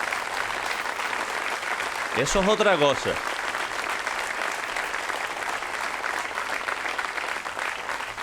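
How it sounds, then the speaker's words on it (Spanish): Applause from a festival audience for the group Ensamble Jural at a town proclamation event in Agaete, sustained and full, with a voice speaking briefly over the clapping partway through. "Así que Ensamble, con este aplauso sí que vendrán más."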